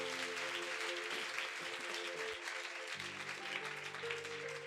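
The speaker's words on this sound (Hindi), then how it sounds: "प्रभु को ताली बजा के धन्यवाद।" Steady applause fills a church congregation's Sunday service in Panipat, a dense continuous wash of many hands clapping together over sustained keyboard chords.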